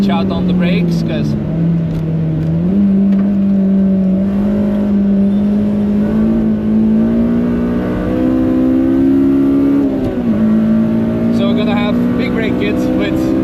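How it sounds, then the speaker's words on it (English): A Honda Civic race car at the Nürburgring drones steadily near its rev limiter in sixth gear, the engine tone loud, continuous and slowly climbing, with brief dips near the end. "Here we'll be also maxing out in 6th on the rev limiter due to the short gear ratio"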